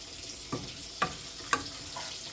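Taro leaves cooking with shrimp and garlic are stirred in a pot, with a low frying sizzle and four distinct scraping strokes at an even, unhurried rhythm.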